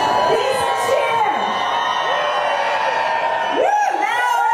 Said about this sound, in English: Please cheer.